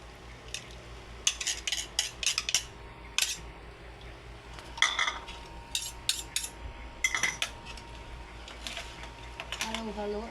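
Dinakdakan mixed with mayonnaise and vinegar in a bowl, with bursts of close utensil scraping and clinking against the dish in quick irregular clusters over a low background hum.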